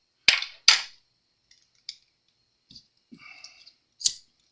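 A lighter is struck to heat shrink tubing on a guitar pickup lead, giving two sharp, close clicks at the start and then a few softer scattered clicks and scrapes against near silence.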